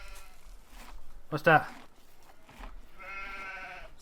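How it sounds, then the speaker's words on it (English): A sheep bleats in the farming video game Farming Simulator 15, giving one clear, wavering bleat after a short spoken exchange, with voices nearby. "Sheep. Sheeps."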